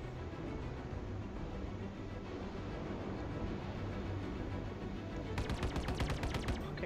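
Ship guns fire in Star Citizen, a rapid rattling burst of automatic shots kicking in over a steady low engine hum after a stretch of droning flight.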